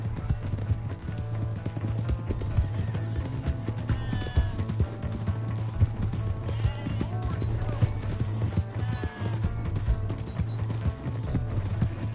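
Horse hooves clip-clop at a gallop with an occasional whinny in a PS4 video game, steady rhythmic hoofbeats over a low engine-like drone, with voices talking over them.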